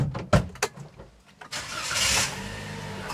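A 2023 Toyota Calya G CVT with a 1200 cc four-cylinder engine cranks and starts after a few clicks and thumps, then settles into a steady, moderately loud idle.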